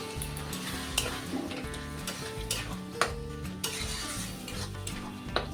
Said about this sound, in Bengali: টমেটোগুলো ভালোভাবে মিশিয়ে নিচ্ছি।